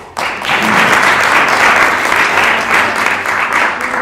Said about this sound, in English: let's have a round of applause for the panel